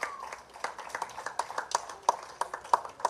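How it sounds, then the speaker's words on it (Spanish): A church congregation claps at a Spanish-language worship service, a loose rhythmic stream of nearby hand claps with some sharp individual slaps standing out over a faint background. "Denle un aplauso al Señor,"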